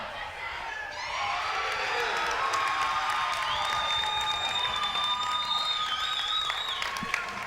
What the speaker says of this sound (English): The cheering you hear in the background is for the heavyweight match that's being conducted next door